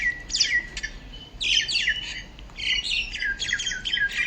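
Common myna calling close by: a run of harsh squawks, chirps and rapid chattering phrases in quick bursts, with no voices.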